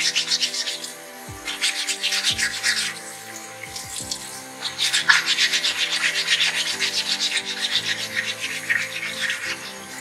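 Stone is sanded off the base of a mounted dental model, giving a close, uneven scraping and rubbing in repeated strokes with short pauses between them.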